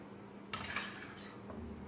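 Payasam, a sweet South Indian Ganesh Chaturthi offering, is poured out of a cooking pot. Close utensil clatter and scraping bursts for about a second, then fades to quiet kitchen ambience.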